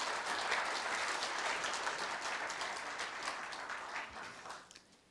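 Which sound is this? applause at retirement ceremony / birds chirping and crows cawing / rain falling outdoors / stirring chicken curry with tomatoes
applause at retirement ceremony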